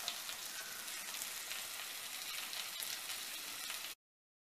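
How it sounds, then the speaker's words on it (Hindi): Chopped onion and garlic frying slowly in a pan over a low flame, giving a steady, even hiss and crackle that runs without a break and then cuts off abruptly. "हमारा कांदा अच्छे से भून गया है धीमी धीमी आंच में"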